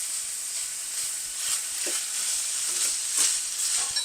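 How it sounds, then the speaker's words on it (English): About two tablespoons of minced garlic paste frying in a pan for sloppy joes, a steady bright sizzle close up with soft stirring swishes throughout. "Get my garlic cooked."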